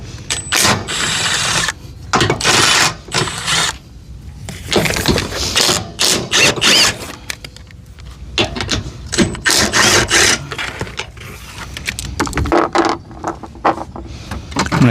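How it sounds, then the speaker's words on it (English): A power tool whirs in loud, repeated bursts while unbolting the three screws holding the factory jack on a trailer tongue, with short pauses between the runs and no speech. "now we just need to unbolt the 3 screws holding the factory jack in place"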